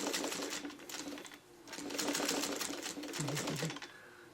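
A sewing machine runs a straight stitch along a gentle curve in a seam, close by, in short bursts with a brief pause between runs.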